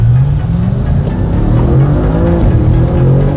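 A car accelerates hard in manual mode at the Alpine Volks Fair 2022, heard from inside the cabin: a loud, continuous engine drone whose pitch climbs steadily through the gears, with no talking.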